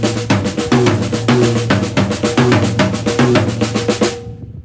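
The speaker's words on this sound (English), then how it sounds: "the unaccented notes are all played on the snare drum" Accented strokes ring out on a floor tom and a high tom while quicker unaccented triplet fills run on the snare drum, forming a steady, loud, repeating groove with no talking.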